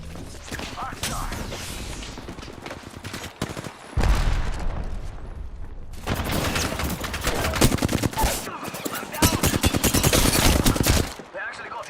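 Rapid video game gunfire crackles in loud bursts, with automatic fire rattling in dense volleys separated by brief pauses, mixed with game voice callouts.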